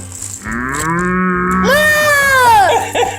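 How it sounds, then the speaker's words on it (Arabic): A toy cow gives a long, loud electronic moo that rises in pitch and holds steady before cutting off, close and clear with only faint room noise around it. "دي بقرة"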